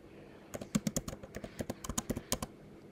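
Rapid, irregular clicking of computer keyboard keys tapping out a short word, each keystroke crisp and close, alone without any voice.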